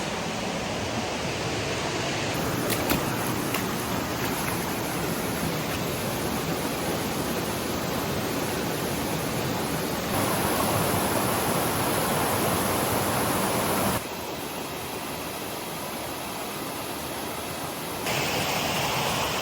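Creek water rushes steadily through a narrow natural gorge sluice in hinterland bush, a dense, continuous roar that is close and unbroken, with no voices.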